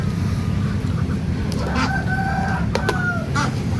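Free-range village chickens: a rooster crows once nearby amid scattered clucks, over a steady low outdoor rumble.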